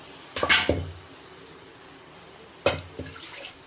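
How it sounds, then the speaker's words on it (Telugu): Water poured from a vessel into a simmering country-chicken curry in a pan, heard as two short, close splashing pours separated by a pause, with quiet kitchen background between them. "ఈ వాటర్ అయితే దీంట్లో వేసేద్దాం."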